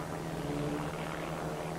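Pitts Special aerobatic propeller biplanes of Team Toyota fly at the 1993 Biggin Hill air show, giving a steady droning engine roar that holds at an even level throughout, with no talk.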